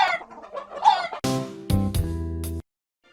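A hen clucks in a run of short, choppy calls, followed by several louder, ringing bursts that stop abruptly into silence.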